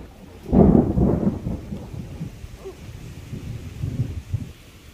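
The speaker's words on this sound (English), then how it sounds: "That lightning, that thunder's happening." A deep rumble of thunder rolls through a garden during a rainstorm, booming loudly at first and then fading into lower grumbles over a soft rain hiss.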